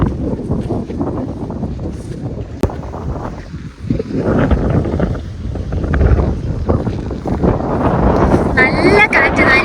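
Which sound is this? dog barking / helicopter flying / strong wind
strong wind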